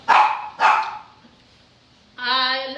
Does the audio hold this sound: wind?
no